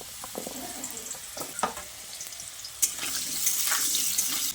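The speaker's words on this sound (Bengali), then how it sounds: "এরপর আমি কুমড়োটাকে ভেজে নিচ্ছি" Pumpkin pieces fry in hot oil in a pan, a continuous crackling sizzle broken by stirring clicks and scrapes that grows fuller toward the end.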